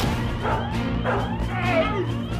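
Several dogs bark and yip in repeated bursts, close and loud, over a steady low hum, with a whimpering edge between barks.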